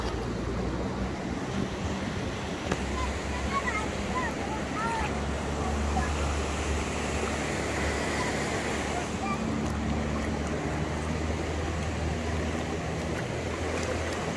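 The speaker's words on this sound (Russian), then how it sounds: "помочил ноги, пускай не в Индийском океане, но в реке в Мостаре" River water in Mostar rushing steadily around dipped feet, a constant broad washing roar mixed with wind buffeting on the microphone, unbroken throughout.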